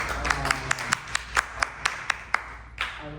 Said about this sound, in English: First round of applause I've gotten so far in this job